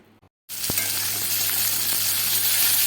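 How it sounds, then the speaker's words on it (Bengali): Poppy seeds hit a hot pan and sizzle loudly and continuously after a brief quiet moment, with a couple of faint clinks as they are stirred during frying for a Bengali banana-flower paste. "এবার আমি লঙ্কাগুলো তুলে নিয়ে পোস্তগুলোও ভেজে নেব।"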